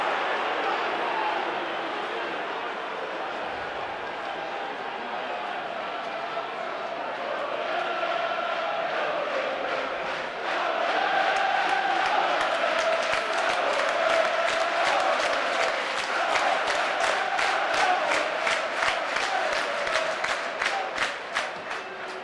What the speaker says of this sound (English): a foul on the goalkeeper, which displeases the home crowd